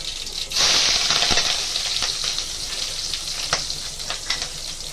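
Green chillies go into hot oil with mustard seeds in a kadai while tempering for a sandwich filling, setting off a loud, close sizzle that flares at once and keeps crackling steadily.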